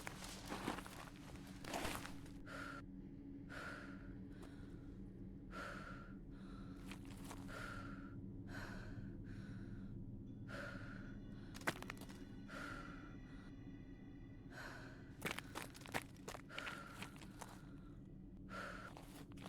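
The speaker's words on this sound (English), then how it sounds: "Who's breathing on Milo heavily?" Heavy, rhythmic breathing close up in a dark tunnel, a steady series of loud gasping inhales and exhales repeating about every second over a low droning hum, with faint shuffling footsteps.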